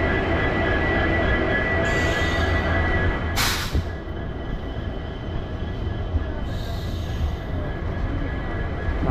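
Steady, loud rumble and rattle of the Uzhavan Express (train 16866) running from Thanjavur Junction, heard from a seat inside a crowded carriage, with a brief hiss or squeal burst partway through and continuous wheel and wagon noise.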